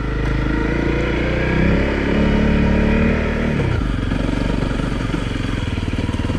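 A Honda CRF250L rides off-road with a loud, close engine drone that holds steady, then drops in pitch partway through as the rider eases off, followed by a rougher, choppier engine note.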